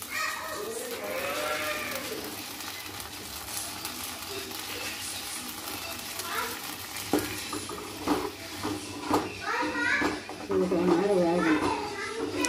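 Green masala with water, turmeric powder and salt simmers and gets stirred in a pan, a soft continuous bubbling and scraping heard beneath children's voices and chatter throughout.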